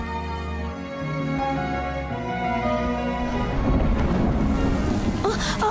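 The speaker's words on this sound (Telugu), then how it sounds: "లేట్ నైట్ అయింది, వర్షం ఒకటి పడుతుంది." Rain falling late at night, a steady wash of downpour that swells toward the end, with distant thunder suggested beneath a layer of tonal music.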